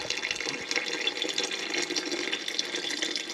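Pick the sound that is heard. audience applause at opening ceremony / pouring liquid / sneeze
pouring liquid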